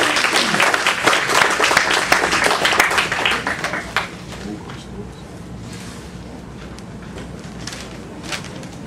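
An audience applauds after a lecture on monetary matters, with dense clapping for about four seconds that thins to scattered claps and quiet room noise.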